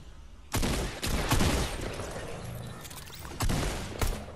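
Gunfire in the video game Fortnite battle royale, several sharp loud bursts of shots at irregular intervals over a quieter game background, with no talking.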